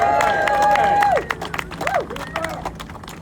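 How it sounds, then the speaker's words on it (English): An audience at a press conference claps and cheers in a burst of applause mixed with crowd chatter, while a sliding whistle-like tone sounds at the start. "Let's give that thing a big round of applause."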